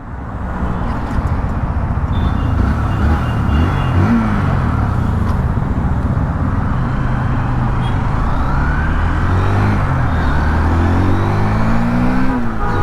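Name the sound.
Hero Xtreme 160R 4V motorcycle starting and accelerating on highway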